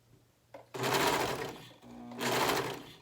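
A sewing machine runs in two steady bursts as it stitches a shirt, a dense mechanical whir that stops briefly between runs, close and loud with no talk.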